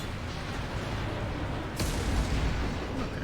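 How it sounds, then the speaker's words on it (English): An explosion in the video game Mass Effect 2 lands as a sudden burst through dense, continuous combat noise, with a rumbling, roaring tail that stays loud. "Look, an explosion."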